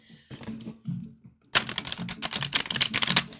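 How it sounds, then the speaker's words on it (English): Tarot cards shuffled by hand in a burst of dense, rapid riffling clicks, fairly close and loud, preceded by a few softer card taps with a low hum underneath. "I'm shuffling the cards"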